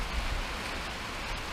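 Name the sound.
rain falling outside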